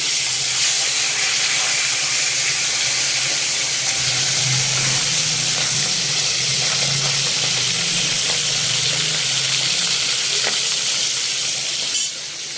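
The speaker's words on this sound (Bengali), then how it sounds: "বাকি মাছটা ভেজে নিই।" Pomfret fish sizzles steadily in hot oil in a pan, a continuous close frying hiss with a faint low bubbling that holds level throughout, no voices.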